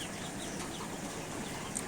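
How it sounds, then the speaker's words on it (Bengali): White broiler chickens raised for roasting, part of a flock of about two thousand birds on a farm, cluck faintly in the distance in a low, steady murmur with no talk over it. "ওই যে ওই পাশে সাদা মুরগি দেখা যাচ্ছে, ওগুলা হচ্ছে রোস্টের মুরগি"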